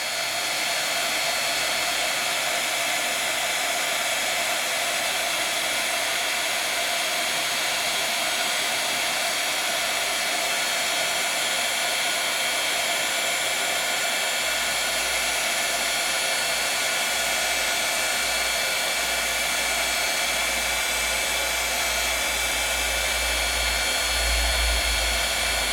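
A heat tool blows hot air steadily to emboss ink, a loud continuous close whirring hiss with no break and a low rumble creeping in near the end.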